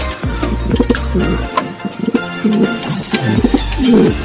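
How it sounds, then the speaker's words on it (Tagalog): Two racing pigeons coo in low, throaty bursts, several repeated calls close by with a rumbling background and a few sharper flutters. "Dalawa ng kalapati natin"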